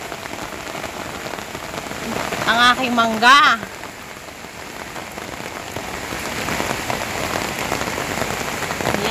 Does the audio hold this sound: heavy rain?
yes